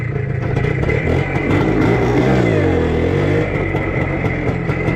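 A Minsk motorcycle fitted with a Voskhod wheel revs hard and loud close by, its engine note rising and falling as the rear wheel spins and slips for a few seconds.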